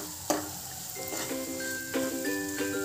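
Semolina roasts in ghee in a kadai over medium heat, a soft continuous sizzle with a sharp scrape of stirring and faint metallic ringing tones.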